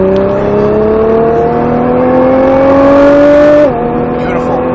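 A Nissan GT-R accelerates hard on the SpeedVegas race track, its close, loud engine note climbing steadily for several seconds before dropping sharply as the driver shifts or lifts off the throttle.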